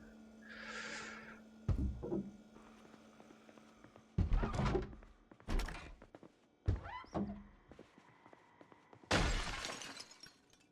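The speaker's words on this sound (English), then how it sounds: "Zombie smashed in this window." Glass shatters as a zombie smashes in a window in the Project Zomboid video game, with a series of loud crashing, thumping impacts spread across the scene and no talk.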